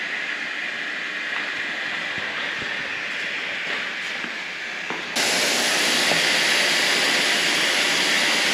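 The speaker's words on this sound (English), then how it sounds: "Action on the smoke machine." A smoke fogging machine sprays mist into a room being treated for toxic mold, giving a steady loud hiss that jumps abruptly brighter and stronger partway through and then holds.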